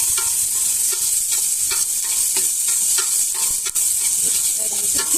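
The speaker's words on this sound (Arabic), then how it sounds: "بدنا ندير الفلفل، طبعا المكونات الفلفل والبصل، نحمره تحمير خفيف." Sliced peppers and onions lightly frying in a cooking pot, a steady bright sizzle with repeated clinks and scrapes of stirring over it, close and continuous.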